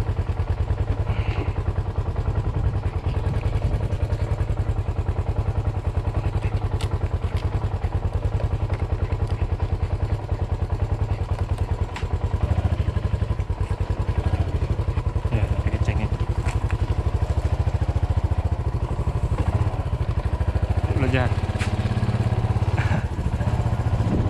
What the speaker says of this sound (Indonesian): Biar nggak takut naik motor.